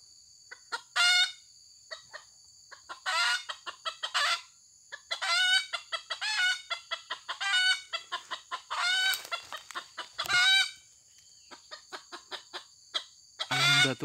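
Close, busy clucking from old chickens comes in rapid repeated bursts, with a constant high-pitched buzz of insects behind it, at a bird-trapping spot.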